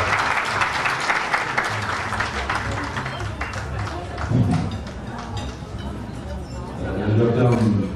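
Audience applause rings out at a ladies' gala ball, dense clapping that runs the full length and swells again near the end, with chatter and voices mixed in beneath it.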